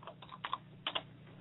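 Soft keystrokes on a computer keyboard, a few faint clustered taps with short pauses, quiet and alone.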